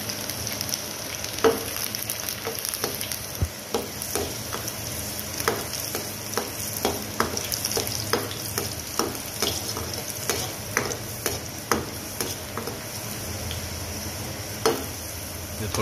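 Whole garlic cloves sizzle in hot oil in a pan while a spoon stirs them, a steady frying hiss broken by frequent scraping clicks, close and with no talk.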